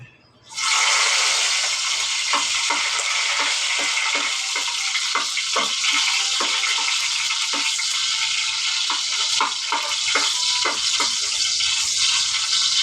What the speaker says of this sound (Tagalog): Lagay ko na tong bawang.